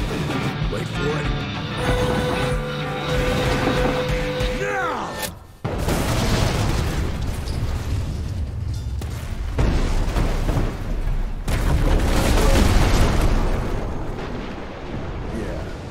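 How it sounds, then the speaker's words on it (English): A bridge explodes in the video game Evil West with a series of heavy, booming blasts and crashing debris that last through the stretch, near and loud, with a brief drop in the middle and voices over the rumble. "I know how to shape an explosion, Edgar."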